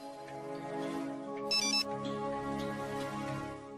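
A mobile phone ringtone plays a melodic electronic tune for an incoming call, loud and clear, with a brief brighter burst midway and no speech over it.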